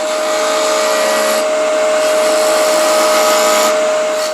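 A wood lathe spins a wooden loom pulley at high speed, giving a loud, steady whine with a sustained tone and a broad hiss of cutting that shifts slightly partway through, close up with no talking.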